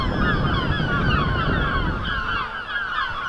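Strong, gusty wind buffets a microphone outdoors at a model aircraft flying field, a loud steady roar of rumbling noise with slight surges and no talk.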